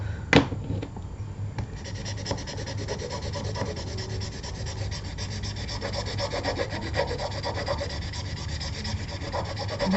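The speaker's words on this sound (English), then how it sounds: "I'm using a trusty old Martha Stewart's bone folder." A trusty old Martha Stewart bone folder, slightly damaged at the tip, rubs and scrapes steadily across paper during a craft project, a continuous close dry friction with a sharp tap near the start.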